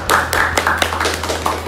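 An audience at a school student council candidate event bursts into clapping, several loud, quick claps starting together and thinning out, with a low steady hum underneath.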